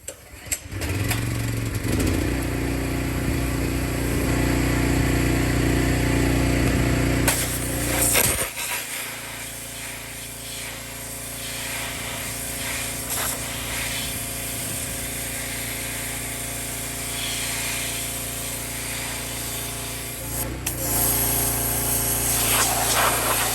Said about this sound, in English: we're now going to hit it with a pressure washer